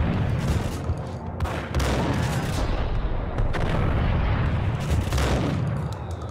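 Dense, continuous gunfire and booming impacts from a Max Payne shootout, loud and sustained throughout with repeated heavy bursts and a thick wash of noise.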